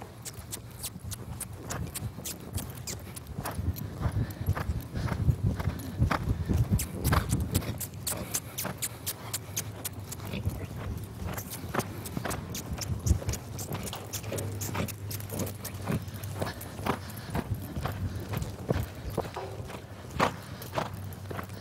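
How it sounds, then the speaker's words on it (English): A mare lopes on ground, hooves clip-clopping in a steady rhythm over a constant low hum of background noise, with no talking. "Okay, I'm going to lope this mare through now."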